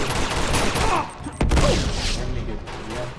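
Gunfire in the video game Uncharted 2 Among Thieves, a dense fusillade of shots and booms that fills the clip loudly, with a heavy thud midway and voices talking over the action.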